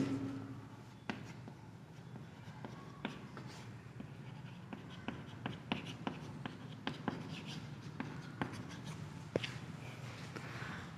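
Pen or pencil writing out a Class 10 maths solution on paper, faint and close, with soft scratchy strokes and small taps in an irregular rhythm across a quiet room, no voice.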